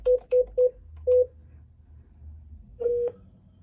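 Five crisp push-button dialing tones on a Cisco CP-8865 IP phone while an extension is keyed in: four quick beeps in an uneven rhythm, a short pause, then a longer final tone, close and clear over faint room hum.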